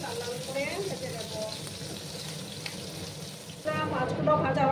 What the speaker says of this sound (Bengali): আর একটু সময় আমি মাছগুলোকে লাল লাল করে ভেজে নেব